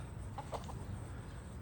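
Chickens cluck softly in a few short calls over a steady outdoor background hiss, fairly distant and faint.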